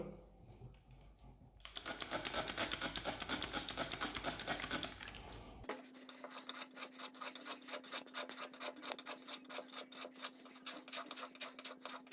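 A knife blade scraped repeatedly across 800-grit sandpaper: a rough continuous rasp first, then a steady series of quick rhythmic strokes over a faint hum.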